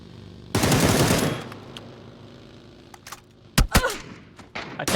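Gunfire in the PUBG battle royale video game: a loud rapid automatic burst up front, then scattered sharper single shots and clatter further on, with no talking.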